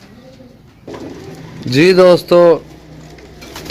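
Pigeons offered for sale in Sarai Alamgir, Jhelum, Pakistan coo softly in the background while someone speaks loudly and close over them in a short burst.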